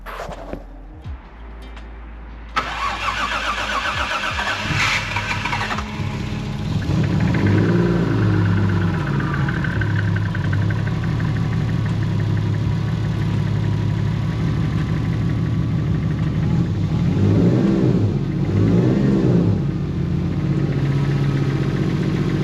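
A Toyota 1JZ engine being tested after misfire repairs: a starter cranks briefly, then the engine catches and runs with a loud steady idle, rising in a few revs near the end, close up with no talking.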